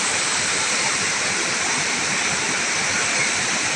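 Waterfall in Misamis Occidental, a constant, loud, hissing rush of falling water filling the scene evenly from start to finish, with faint voices underneath.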